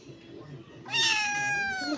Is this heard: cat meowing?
yes